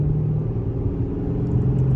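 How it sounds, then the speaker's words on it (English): The Hemi V8 of a 2007 Chrysler 300C SRT8 rumbles at a steady low idle, deep and close, with no talking. "listen to the Hemi."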